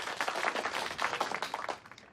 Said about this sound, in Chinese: 掌声欢迎刘烨！